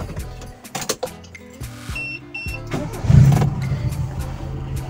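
A Toyota Corolla XL with a 2E engine cranks, catches and fires up, a loud close mechanical chatter settling into a rumbling idle with a surge of revs, plus a couple of brief high chime tones.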